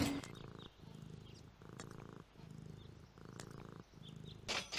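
A cat purrs in the Deponia video game, a close, steady rhythmic rumble in repeating cycles of about a second each, with faint high clicks over it and no talk.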